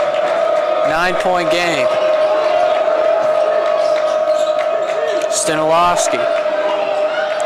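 Crowd noise fills a college men's basketball gym between Otterbein and Mount Union after a big momentum dunk, a steady loud roar and cheering running the whole time beneath a commentator's continuous play-by-play.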